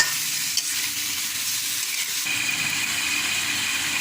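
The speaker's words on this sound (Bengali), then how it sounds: "কষাতে থাকি" Stalks and shrimp stir-fry in a pan with a little water added, giving a continuous loud sizzling hiss that briefly drops and then steadies again, with no voices.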